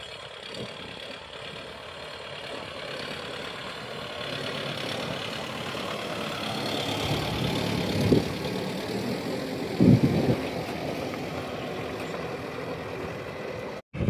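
A low tractor engine of about 55 horsepower idles steadily throughout, with a couple of brief louder knocks or revs partway through; no talking.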